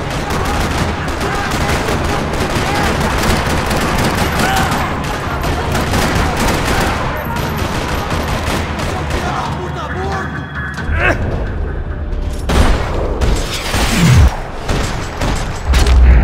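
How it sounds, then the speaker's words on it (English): Rapid bursts of gunfire in Max Payne 3 rattle continuously across a parking lot, with booms and mechanical clatter, loud and close, occasional voices under the shooting. "Another parking lot rattling with gunfire."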